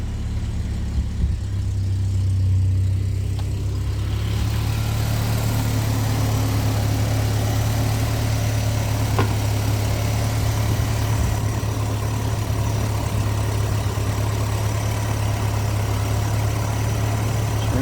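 A Splash Sport Danger Ranger engine idles right after its first crank on a cool 55-degree day, with the check engine light on. A rough start settles into a steady, loud, low droning idle that runs on alone.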